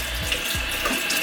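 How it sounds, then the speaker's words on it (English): Kitchen tap water runs in a steady, loud stream as saltfish is rinsed under it, with a couple of soft low splashes near the start. "and just rinse it off."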